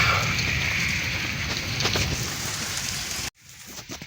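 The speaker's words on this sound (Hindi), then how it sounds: "शाम का हो चला है वक्त और बारिश भी लगी हुई है" Steady rain falls continuously in a hill village in the evening, a dense hiss with scattered drops, then cuts out abruptly near the end, leaving quieter faint patter.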